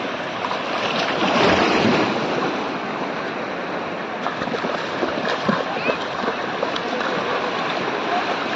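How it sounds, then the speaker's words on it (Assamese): Continuous roar of sea waves surging and splashing at Juhu Beach, Mumbai, with wind buffeting the microphone and a child playing in the water, a voice faintly present beneath the surf. "এই বাচ্চাটোৱে খেলি আছে সাগৰৰ পানীৰ লগত"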